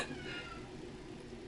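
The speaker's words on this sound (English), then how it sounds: "And a cat." A cat meows in a drawn-out, wavering cry that sits close and fairly clear over a steady background hiss, with no talking.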